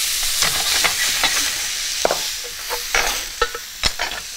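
Apple slices laid into butter in a red-hot pan inside a Gozney Dome oven, giving a steady close hiss and crackle broken by sharp clinks and scrapes of stirring.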